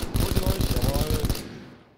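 Rapid automatic fire from a Vector submachine gun in a video game, a fast close burst of shots lasting over a second before cutting off into quiet.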